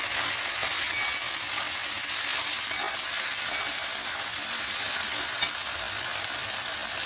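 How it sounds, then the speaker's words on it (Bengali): Chilli paneer with black pepper frying in a pan gives a steady, dense hiss of sizzling oil that holds evenly throughout, close and loud, with no talking. "এটা একটু গোলমরিচ দিয়ে এটাকে মিশিয়ে নেব"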